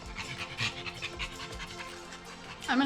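A dog pants heavily and rhythmically close by, quick repeated breaths continuing throughout, with a brief whine or squeak near the end.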